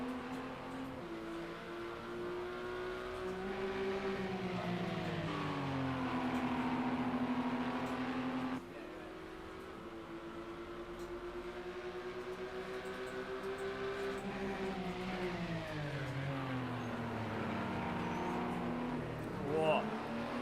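Endurance race cars at the Spa circuit, one running right on the bumper of the Judd Mangano entry, hold a long, continuous engine drone that rises and falls in pitch through the corners, with commentary talk over it throughout.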